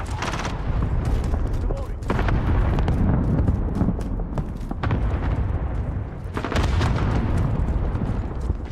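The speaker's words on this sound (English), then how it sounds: "Enemy cluster strike incoming." Enemy cluster strike explosions in Modern Warfare 2019 multiplayer: a dense, continuous barrage of heavy booms and gunfire rumbles loudly throughout, with a few sharper blasts standing out.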